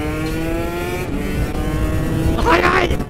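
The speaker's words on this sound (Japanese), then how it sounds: "2ストロークサウンド響かせちゃいましたね" A two-stroke racing motorcycle on the track at Fuji Speedway, its high, buzzing engine note held close and loud before a sharp rising rev near the end, with voices talking over it.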